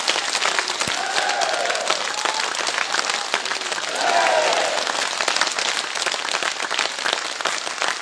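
Crowd at an election rally in Arki clapping to honour the nation's soldiers, a dense continuous roar of applause sustained for several seconds, with faint shouts rising within it.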